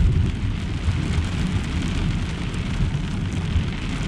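Heavy rain pounds steadily on a camping truck during a severe overnight thunderstorm, a dense, continuous loud roar with no pauses or voices.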